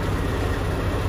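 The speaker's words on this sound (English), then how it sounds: "This is the generator." Homemade APU generator engine running at a steady idle, a continuous low rumbling drone heard up close with no speech over it.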